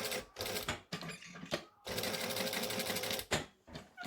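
A sewing machine stitches a seam on a Butterick 6094 dress, fast mechanical whirring in bursts that stop and restart, fairly close with no talk.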